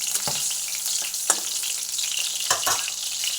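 Green chilies sizzle and crackle steadily in hot oil, a close bright hiss with a few sharper pops and stirring scrapes scattered through it.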